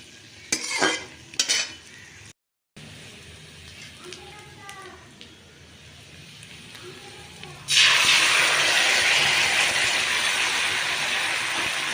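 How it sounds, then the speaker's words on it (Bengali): Potatoes fry in oil in a pan while being stirred, with a few sharp scraping clatters of a utensil early on, then a sudden loud, steady sizzle that swells and holds to the end. "আলুগুলো মোটামুটি আমার ভাজা হয়ে গেছে আর একটু ভালো করে ভেজে নিই"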